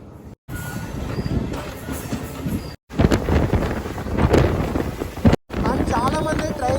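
A MEMU train moves off from the first platform at Tanuku station with a loud, continuous rumble heavily buffeted by wind on the microphone, broken by a few brief cutouts.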